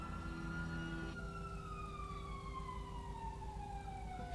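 Police car siren in the video game GTA V, a steady wailing tone that sweeps downward, heard faintly but continuously alongside low engine and road rumble with no talk.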